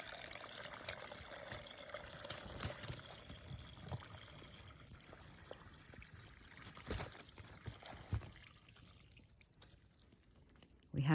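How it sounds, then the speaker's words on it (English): Rainwater pooled on top of snow gurgles and trickles softly down through a hole poked in the icy crust, a faint, uneven flow with occasional small splashes outdoors. "show how the ice gives way and the water flows down like a little whirlpool"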